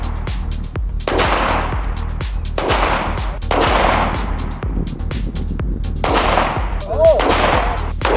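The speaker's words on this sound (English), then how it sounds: "We're playing darts, only with bullets." Pistol shots fired outdoors at a darts-style target, five or six loud sharp cracks spaced roughly evenly about 1.5 seconds apart, each followed by a ringing echo tail.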